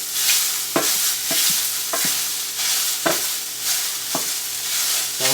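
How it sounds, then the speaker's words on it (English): Onions and fish sauté in a hot pan with a steady, close sizzle, interrupted by several scraping stirs spaced through the sound. "So I'm going to saute this for about 10 minutes"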